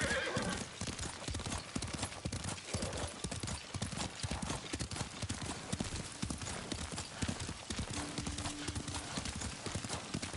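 Horse hooves clip-clop steadily while a horse neighs, from horseback riding in the video game Ghost of Tsushima, dense and continuous with a brief tonal whinny near the end.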